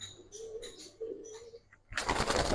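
A pigeon coos close by in low, throaty bursts, one after another with short pauses between them. It ends in a sudden loud rustle of handling or flapping.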